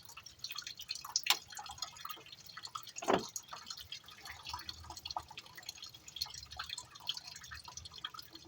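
Coolant water drains from the radiator of a 2013 Toyota Rush after the top radiator cap is removed. Close, irregular drips and trickles splash steadily, with one sharper splash partway through and no voices.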